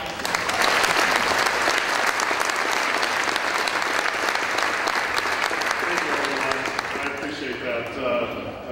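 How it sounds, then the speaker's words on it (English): An audience at a United Way campaign kick-off breakfast applauds for speaker John: a dense, loud, continuous wash of clapping that holds steady and then thins and fades toward the end. "Please give a big round of applause for John."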